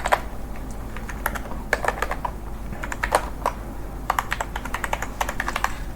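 Someone types an SQL query on a computer keyboard, producing close, steady bursts of clicking keystrokes with short pauses between runs of keys and no talking.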